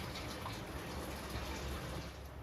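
Water is poured from a vessel into a pot of fish curry made with pearl spot fish, a continuous full gush and splash heard up close with no voices.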